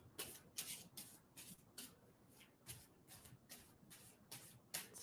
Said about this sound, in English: Tell me to stop shuffling.